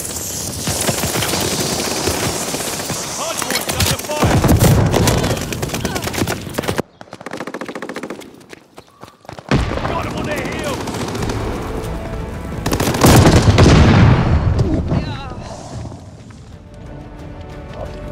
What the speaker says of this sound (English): Hard point under fire.